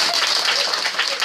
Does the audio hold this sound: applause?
yes